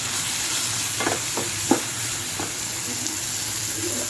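Tomatoes and green chilies sautéing and being stirred in a pan, a steady close sizzle with a few sharper scraping stirs, no talking.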